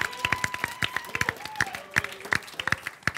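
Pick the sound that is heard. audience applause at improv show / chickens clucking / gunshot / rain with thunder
audience applause at improv show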